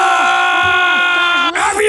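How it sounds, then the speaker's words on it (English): Several people yell at once, with strained, drawn-out bellowing voices that are loud and close. The shouting holds steadily, then briefly dips before a burst of overlapping cries at the end. "everyone stop yelling!"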